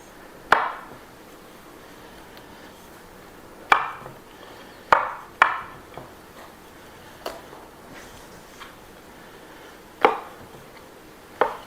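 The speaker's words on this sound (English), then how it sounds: "She wants them in big chunks, so I'm just going to cut them in bite-sized pieces here." Knife chopping ingredients into big bite-sized chunks for beef bourguignon on a board, with sharp isolated chops spaced irregularly about a second or more apart, fairly close, and no talking.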